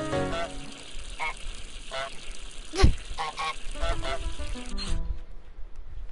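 Honks from the cartoon goose in Untitled Goose Game, several short nasal honks repeated over a steady bed of game music and background ambience, with one louder thump near the middle.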